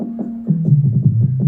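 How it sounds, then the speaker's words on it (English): A run of punchy 808 synth bass notes stepping downward, short and rhythmic, played an octave higher than usual, loud and with nothing else over them. "I usually write my 808s or play my 808s on a higher octave."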